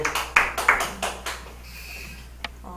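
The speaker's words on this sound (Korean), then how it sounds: "박수 박수" A few people give a short, sparse round of applause, a handful of loud close claps in the first second and a half that then fades out.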